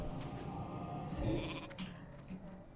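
In World of Warcraft Classic, a mage's Polymorph spell turns a target into a sheep, giving a short bleat amid quiet game background sounds.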